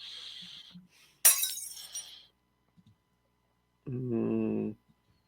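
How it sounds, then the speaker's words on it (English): Glass window shattering as a man crashes through it in a TV action scene, one sharp loud burst with a brief tinkle of falling shards, followed later by a short voice-like sound. "the guy just come crashing through the window"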